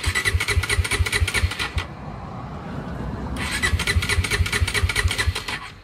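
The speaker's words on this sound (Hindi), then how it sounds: "उसके बाद फिर से बाइक स्टार्ट नहीं हो रही" A Bajaj Pulsar NS400Z motorcycle that will not start: a loud, rhythmic chugging of the starter cranking, a brief lull with a lower rumble, then cranking again, close by and with no talk.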